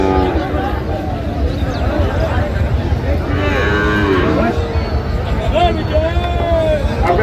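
Cattle at a busy livestock market in Sirajganj, with Sahiwal bulls and calves, moo repeatedly at close and middle distance over a constant crowd babble and people talking.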